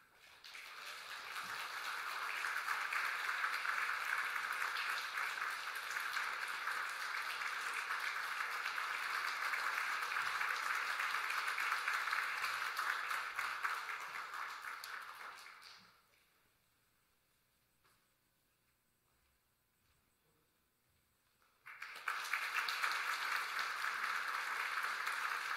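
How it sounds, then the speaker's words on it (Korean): A church congregation at a Sunday Christmas service claps in sustained, even applause for about fifteen seconds, goes quiet for several seconds, then breaks into applause again. "우리 전달할 때 큰 박수로 격려하시도록 하겠습니다"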